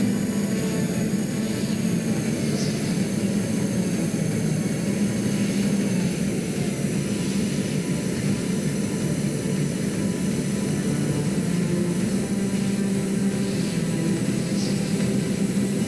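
Steady, continuous drone of large aircraft engines in the Stormworks video game, a loud even roar with no variation throughout.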